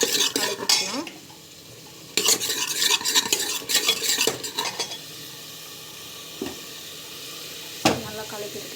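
Spoon stirring ground onion paste in a cooking pan, scraping and clinking in busy bursts over a faint sizzle, then quieter occasional taps and scrapes, close by.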